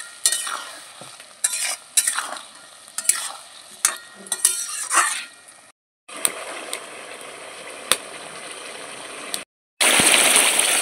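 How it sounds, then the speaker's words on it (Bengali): Spice paste for muri ghonto sautéed in a pan, with steady frying sizzle and repeated scraping stir strokes, a brief pause, then a louder burst of sizzling near the end. "ভালো করে মশলাটা এখন কষিয়ে নেব।"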